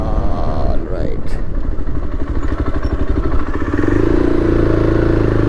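A 2024 Yezdi Adventure motorcycle rolls slowly in third gear, its engine giving a close, steady, rapid thumping pulse. A rider talks over it at the start.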